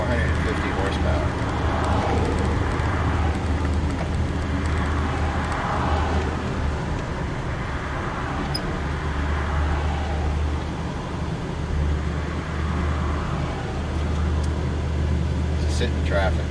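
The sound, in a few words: road traffic heard from inside a 1965 Chevy panel van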